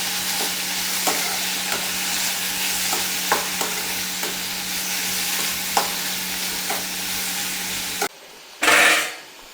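Curry stirred in a hot pan just after salt and turmeric go in, a steady loud sizzle broken by scraping strokes of the spoon, then a sudden drop to near quiet and one short hissing burst at the end.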